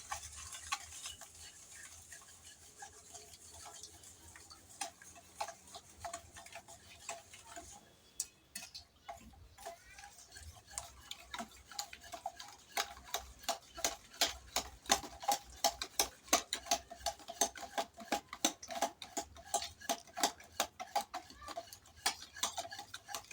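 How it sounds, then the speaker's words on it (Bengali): Eggs and sugar are whisked in a bowl for a cake, rapid rhythmic ticking strokes that start loosely and settle into a fast even beat, close and fairly quiet, with no one speaking. "এবার আমি এটা গুলাই নেবো ডিম আর চিনিটা খুব সুন্দর করে"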